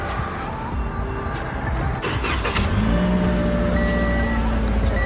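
A four-cylinder car engine catches after being switched on, settling into a low steady idle hum that grows louder near the end after a brief clatter, close up inside the car.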